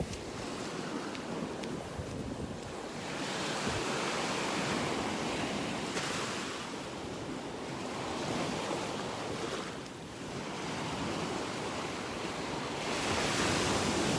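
Ocean waves wash onto an eroded beach in North Naples, Florida, a steady broad surf roar swelling and easing in slow cycles, with some wind buffeting the microphone and no talking.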